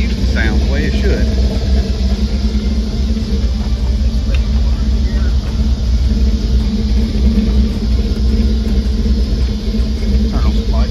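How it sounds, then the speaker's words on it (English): A repaired car engine idles with a steady, loud low rumble close to the microphone, a continuous even drone throughout, while someone talks over it. "Idle's a little bit down, but it sounds the way that it used to sound, the way it should."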